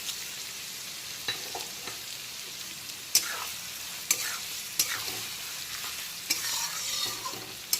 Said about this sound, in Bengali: যতক্ষণে পেঁয়াজ কুচি আর চেরা কাঁচা লঙ্কাটা ভাজা ভাজা হচ্ছে